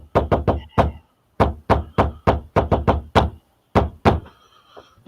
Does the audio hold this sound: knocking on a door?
yes